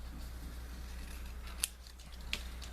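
Scissors snipping paper during a paper craft project, a couple of faint, brief crisp cuts over a low steady hum in a quiet room.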